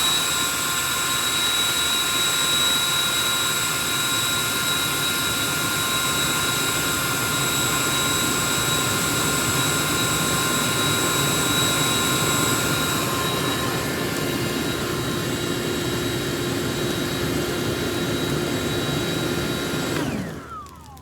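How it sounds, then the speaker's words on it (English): A leaf blower runs continuously on the coals of a campfire, a loud, steady, high-pitched motor whine with a rushing air roar that holds for about twenty seconds before cutting off at the end. "But guess what I got? I got my trusty blower."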